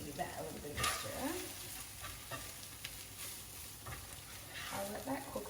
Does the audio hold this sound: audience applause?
no